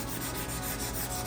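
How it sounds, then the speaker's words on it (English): Bondo body filler being sanded on a 2000 hp Lamborghini body, a steady, even abrasive rub that continues without pause, close and unaccompanied by speech. "So this top layer that I'm doing, that we're sanding here, the first structural filler that I do is actually Bondo."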